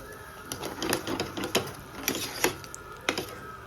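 A spoon scraping and stirring semolina sheera with cardamom powder in a pan, giving a close series of irregular scraping and clicking strokes, fairly quiet, with no talk.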